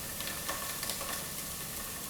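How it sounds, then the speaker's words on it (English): Tomatoes and spices fry steadily in a hot pan, a soft constant sizzle and crackle with occasional stirring scrapes, fairly quiet and close. "keep frying until they become nice and soft"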